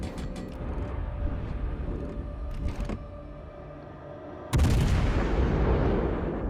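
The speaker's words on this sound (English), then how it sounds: "I open up my first salvo in HE" The cruiser Baltimore fires its first salvo of high-explosive shells in a naval warfare game, a single loud booming blast that follows a few lighter sharp reports and rolls off slowly.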